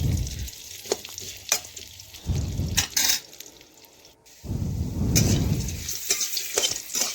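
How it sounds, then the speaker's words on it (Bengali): Potatoes frying with salt in a pan on a home kitchen stove, a steady sizzle that rises and falls in bursts as they are stirred, with scraping clatters of the spatula in between; no talking. "আমি আলুগুলো একটু ভেজে নিচ্ছি।"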